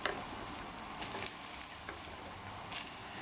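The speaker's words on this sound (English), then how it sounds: "You want to hear the sizzle." Eggplant fries in hot oil for a Provençal ratatouille, giving a steady, close hiss of sizzling broken by a few light clicks and scrapes of stirring.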